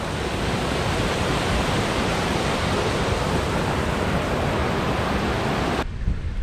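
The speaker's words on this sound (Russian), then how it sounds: "И я слышу шум водопада." A waterfall fed by a mountain stream rushes in North Macedonia near Ohrid, a dense, steady broadband roar filling the whole stretch without pause.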